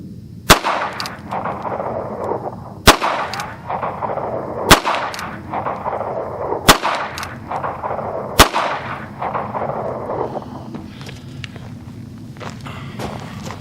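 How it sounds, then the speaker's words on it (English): An NAA Black Widow .22 Magnum revolver fires CCI 40-grain hollow points at a 5-yard range, five sharp, loud shots spaced about two seconds apart, each followed by a brief echo and faint handling sounds. "we're going to start off with the CCI 40 grain hollow points. 5 yards, 5 rounds."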